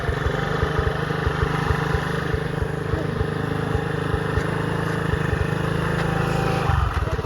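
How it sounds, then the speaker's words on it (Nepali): A scooter being ridden gives a steady, continuous engine drone with a slightly uneven pulsing rhythm that holds for the whole stretch, close and fairly loud. "लु घुमाउने स्कुटी फेरि खोलातिर।"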